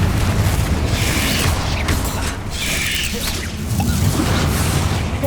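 Confringo fire spell blasts in Hogwarts Legacy, dense rumbling explosions and mechanical bursts layered over continuous game combat noise, loud and sustained throughout.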